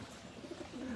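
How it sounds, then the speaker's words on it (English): Homing pigeons coo softly inside a pigeon loft, a low rolling coo rising near the end over faint background noise. "this is the pigeon loft here"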